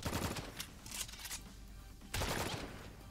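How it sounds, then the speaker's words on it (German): Gunfire in the video game Drawn to Death comes as quiet bursts of rapid shots, the first around the start and a longer, denser volley near the end, with no talk over them. "Er schießt mich mit."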